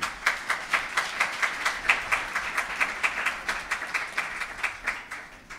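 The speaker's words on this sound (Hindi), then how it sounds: "एक जोरदार ताली वचन के लिए बजा दें" Rhythmic, steady clapping from a church fellowship congregation in unison beats, moderately distant and even throughout, with no talk over it.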